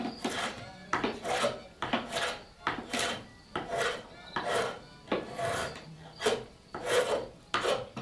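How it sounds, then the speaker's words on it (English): Curved-bladed draw knife, a hollowing knife, shaving the inside of a wooden barrel stave, with about a dozen rhythmic rasping strokes, each a close, bright scrape, repeated steadily. "Curved-bladed draw knife like this, that's how you get the curvature on the inside of the stave."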